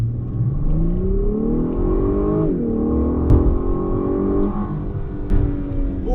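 A 2023 Lexus LS500 F-Sport pulls hard under acceleration, its engine note climbing steadily with a quick dip and recovery at each rapid gear change, loud and close from inside the cabin, with a couple of brief knocks.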